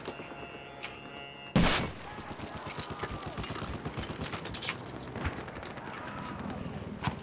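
Rapid gunfire crackles through a Battlefield 4 firefight. One loud burst is followed by a dense, steady stream of shots and impacts that keeps going under the action.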